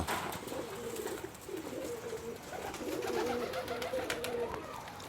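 Pigeons coo repeatedly in low, throaty rolling calls, fairly close, over a steady background hum.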